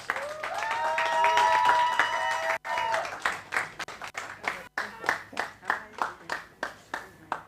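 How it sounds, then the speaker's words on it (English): An audience at a start-up accelerator event applauds as a speaker comes on stage, a dense burst of clapping that thins into steady, rhythmic claps from fewer hands. "So please, let's give a round of applause for Napa as she comes on stage."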